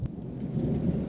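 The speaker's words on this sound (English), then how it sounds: "thunderstorms are much deeper, and the lightning has become much more frequent and more dangerous" Thunder from a deep thunderstorm rumbles low and continuous, a heavy muffled roll with faint rain-like hiss above it, and no voices.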